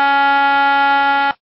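A buzzer used underwater off Cape Cod to call sea bass blares as a steady, loud harmonic tone for about 1.3 seconds, then cuts off abruptly into silence.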